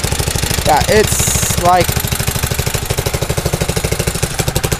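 A go-kart engine idles with the choke on just after a pull start, a steady, close, loud chugging rhythm throughout, with a brief voice and a short squeak near the start.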